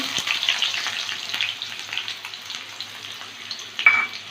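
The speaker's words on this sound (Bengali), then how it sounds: "একটা পেঁয়াজ কুচি দিচ্ছি" Chopped onion frying in mustard oil with dried red chillies, black cumin and garlic, a steady close sizzle and crackle with faint watery spatter, no voices.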